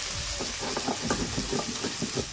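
Busy sizzling and popping of onions frying in hot oil, continuous and close, with no voices.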